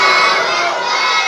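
A large crowd at a religious gathering shouts back in unison in response to the Takbir slogan, a loud, massed roar of many voices that holds for the whole moment.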